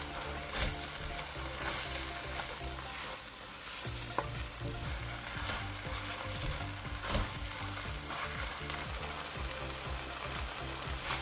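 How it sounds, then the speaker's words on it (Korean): Kimchi stir-fried with onion and green onion over medium heat in a pan, with continuous sizzling and repeated scraping and stirring clatter of a utensil, fairly quiet and close, with no talking. "양파와 대파를 넣고 중불에서 함께 볶아줍니다."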